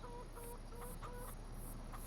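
Chickens clucking on a farm in Farming Simulator 25, a soft, steady stream of repeated game-animal clucks over a constant ambient hum, with no voices.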